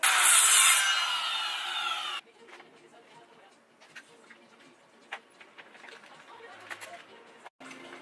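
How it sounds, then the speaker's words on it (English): A saw cuts through a thin wood strip for a small mailbox library, a loud rasping burst for about two seconds, then near-quiet with faint knocks and handling sounds. "A few more wood strips to cut and we good."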